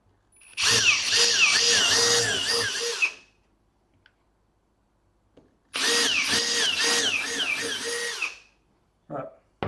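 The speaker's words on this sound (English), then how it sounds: "Got those holes pilot drilled now." A power drill bores 3 mm pilot holes in two steady whining runs of about two and a half seconds each, close and loud, separated by a quiet pause.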